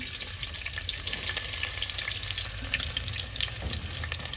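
Cumin seeds and chopped onion frying in hot oil for a village-style Gujarati vadi curry, giving a steady, loud sizzle and crackle throughout with faint stirring scrapes and no voices.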